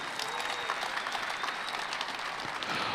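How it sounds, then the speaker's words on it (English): Soft, even applause rolls through the crowd for a 1966 Corvette at a Barrett-Jackson car awards event in Scottsdale, a brief, fairly distant patter of many hands with faint murmuring behind it. "Another big round of applause,"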